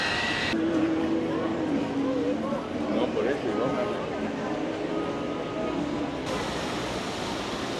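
Steady rumble of a train in motion in Guadalajara, Mexico, arriving at the University Square stop, with metallic squeals and a hollow roar, a voice talking faintly underneath.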